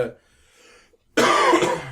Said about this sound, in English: sorry for coughing. I was trying to hold that back so hard.